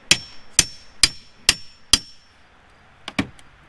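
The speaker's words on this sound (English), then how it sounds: "And just popping the screws out." Screws being popped out of old deck boards with a hammer or prying tool: five sharp, evenly spaced knocks, then a pause and two quicker hits, close and fairly loud with no talking.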